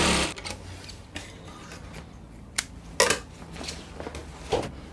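A sewing machine stitches the folded hem on the back of a kimono bubu dress, giving short whirring runs and clicks and knocks from handling the fabric, with no talk.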